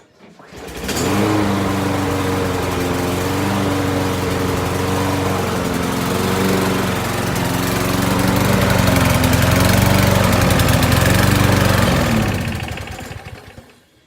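A small repaired yard-care engine, like a lawn mower's, starts and runs loud and close with a steady buzzing drone, revving slightly higher midway before cutting off near the end.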